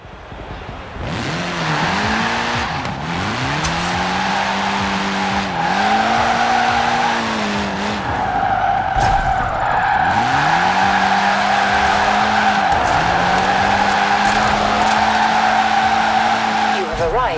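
A video game car engine, a 668-horsepower all-wheel-drive 2014 VW Golf R in Forza Horizon 4, revs loudly through repeated gear shifts, rising and dropping in pitch, with screeching tires skidding throughout.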